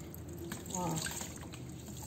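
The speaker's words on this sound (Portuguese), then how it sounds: "e aí vai torcendo ele, tirando todo o excesso da água" Water is wrung from paper-machê pulp wrapped in voile fabric, a brief, soft gush and dripping that swells near the middle, while someone talks quietly over it.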